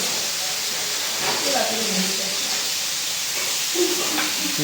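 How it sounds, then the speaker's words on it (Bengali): Eggplant slices frying in a pan in a home kitchen, a steady sizzling hiss throughout, with faint voices talking in the background. "আমি বেগুন ভাজি"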